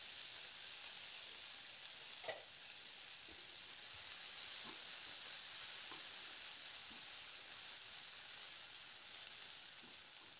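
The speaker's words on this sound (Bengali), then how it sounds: "এবার পেঁয়াজটা দিয়ে মিনিট 2-3 নাড়াচাড়া করে ভেজে নেব।" Finely chopped onion fries in oil for a macher jhal, a soft, even sizzle with occasional light stirring clicks, quiet and close, no voices.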